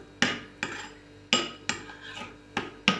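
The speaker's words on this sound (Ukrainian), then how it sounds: "І все гарно перемішуємо." A spoon stirs a sauce of mustard, salt and pepper in a bowl, six quick scraping strokes against the sides in a steady rhythm, close up and without speech.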